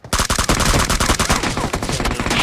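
Loud rapid automatic gunfire from PUBG Mobile, a dense burst of repeated shots close up, sustained for a couple of seconds with no talk over it.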